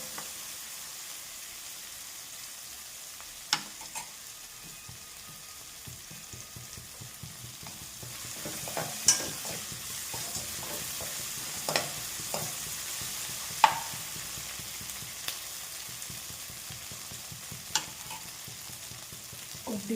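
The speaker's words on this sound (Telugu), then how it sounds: "దానికి 1 స్పూన్ జింజర్ గార్లిక్ వేసాను." Ginger garlic paste fries in a pan for gongura curry with a soft, steady sizzle, broken by scattered sharp clicks and scrapes of a spoon stirring it, the sizzle growing a little fuller midway.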